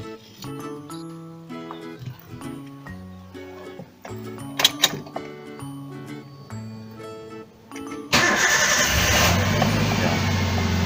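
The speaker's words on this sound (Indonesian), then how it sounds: "Kita tunggu dulu, kita hidupkan mesinnya dulu." A car engine starts before air-conditioning maintenance. Tonal background music plays first, then the engine turns over and settles into a loud, steady running roar for the last few seconds.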